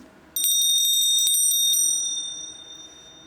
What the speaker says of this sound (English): we have the bell that signifies when Mass starts